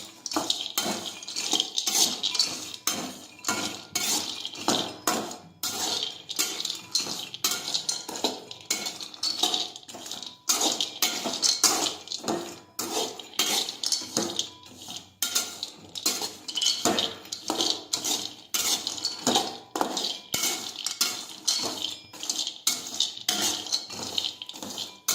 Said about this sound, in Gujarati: હવે આપણે ધીમા ગેસે કાજુ અને બદામ છે તે શેકી લેશું